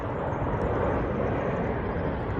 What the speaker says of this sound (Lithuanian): aš einu pafilmuoti dabar, kaip leidžiasi lėktuvai